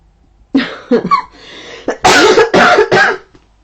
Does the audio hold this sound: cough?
yes